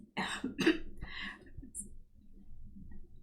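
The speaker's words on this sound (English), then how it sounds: "I'm coughing all of a sudden." Several short, harsh coughs close by, three bursts in the first second and a half, followed by quieter shuffling and low background noise.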